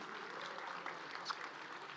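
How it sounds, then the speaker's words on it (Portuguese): Audience applause at a live talk by Pablo Marçal, a soft, even patter of crowd clapping, faint and steady for the whole brief moment. "Então uma salva de palmas para você que ficou até agora."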